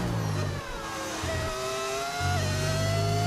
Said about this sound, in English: These engines sound so nice